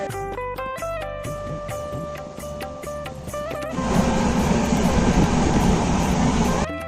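Vivek Express long-distance train running from Kolkata toward South India, heard from on board: clanking, tonal squeals and rhythmic knocks give way to a louder, dense rushing roar in the second half.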